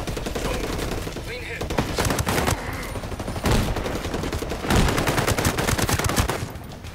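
Rapid bursts of gunfire from the video game Ghost Recon Breakpoint, Red Patriot DLC, loud and nearly continuous throughout, with dense shots and fusillades overlapping and a few brief lulls between volleys.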